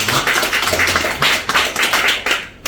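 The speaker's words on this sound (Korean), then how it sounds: "박수로 환영하겠습니다." A church congregation at a Sunday 11 a.m. service in Namyangju claps in welcome, rapid sharp hand claps close and loud, pulsing in uneven waves for nearly three seconds.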